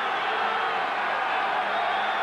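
Steady roar of a football stadium crowd in a 1987 Dallas Cowboys at New England Patriots game, building on a 3rd and 11 deep in Cowboys territory, a continuous broad wash of cheering with no pauses.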